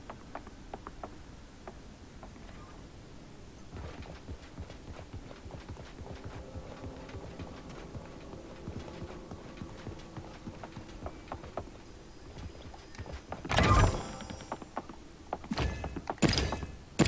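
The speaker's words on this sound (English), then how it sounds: "I can hear an horse somewhere." Hollow clip-clopping horse hoof steps sound steadily at a moderate distance in the video game Realm Royale, joined near the end by a few louder thuds and clatters.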